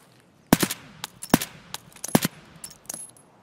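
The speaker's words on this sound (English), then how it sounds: "I shot him twice." Gunfire in Escape from Tarkov: several sharp, loud shots in an irregular burst, some doubled in quick pairs, with fainter clicks and rattles in between.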